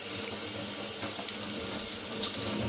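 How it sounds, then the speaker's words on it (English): Tap water runs steadily and fairly close while an etched circuit board is rinsed beneath it, a continuous broadband splash with no speech. "let me rinse that off"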